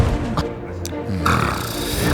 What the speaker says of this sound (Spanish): los ronquidos no tardaron en llegar